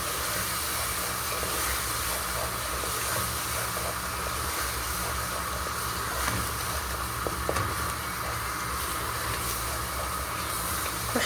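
Garlic, spices and tomato frying together in a pan, giving a constant soft hissing sizzle that stays even throughout, with a couple of faint clicks and no voices.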